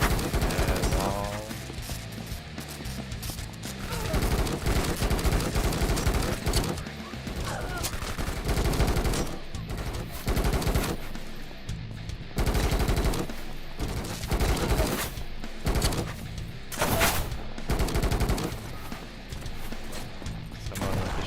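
Relentless shotgun and gunfire in the video game Kinki Spiritual Affairs Bureau, loud overlapping blasts and volleys nearly continuous, with crashes mixed in and some speech underneath.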